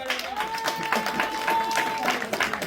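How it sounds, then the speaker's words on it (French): An audience applauds at a medical donation handover ceremony in Kassa canton, scattered claps running throughout alongside a sustained tonal voice or music line. "Applaudissez les"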